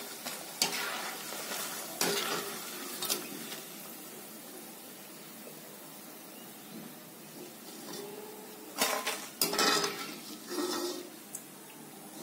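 Pieces of sweet wheat-flour nimki frying in hot oil, a steady close sizzle with bursts of stirring and clinks of a utensil against the pan scattered throughout, no talking.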